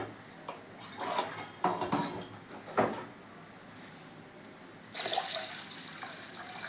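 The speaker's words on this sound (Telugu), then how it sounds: "నేను వాటర్ అయితే వేస్తున్నాను" Water poured from a small vessel into a pot of washed lentils for cooking, two brief splashing pours with clatter of the vessel, then a longer steady pour near the end, close and fairly quiet.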